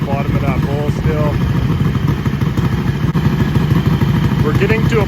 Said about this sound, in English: So 13 minutes to idle up to operating temperature.